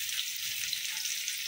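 Chopped garlic fries in a pan with a constant soft sizzle, an even, faint hiss that never breaks or changes, with no talking.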